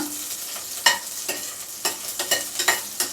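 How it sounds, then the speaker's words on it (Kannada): Slit green chilies frying in a pan crackle and sizzle under a steady hiss, with a series of sharp pops and stirring scrapes scattered irregularly, close and loud. "ಈಗ ಹಸಿಮೆಣಸಿನ್ಕಾಯನ್ನ ಫ್ರೈ ಮಾಡ್ಕೊಳ್ಳೋಣ"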